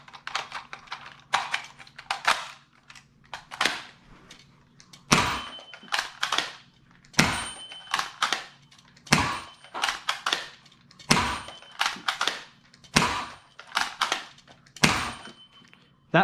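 A Dart Zone Deuce Pro foam dart blaster fires in repeated bursts, each a cluster of sharp, close clacks followed by short pauses, roughly a dozen volleys in a steady rhythm.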